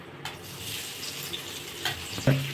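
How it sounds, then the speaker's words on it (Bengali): Onions fry in a pan for a fish kalia, with a soft steady sizzle, occasional stirring scrapes and a brief metallic clink of utensil on pan near the end. "আর পেঁয়াজগুলোকে ভেজে নেব"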